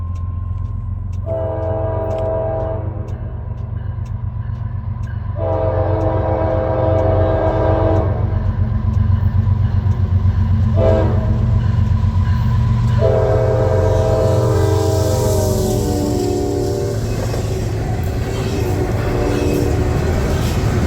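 A train led by SD60 diesel locomotives rumbles past close by with a heavy diesel drone, sounding several long, loud horn blasts in a row, with wheels clattering underneath.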